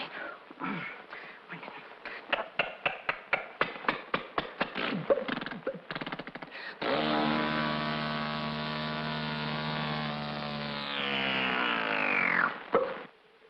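A small engine putters in quick pulses, then settles into a steady droning hum that rises slightly before cutting off; it sounds like a voice imitating a motorboat.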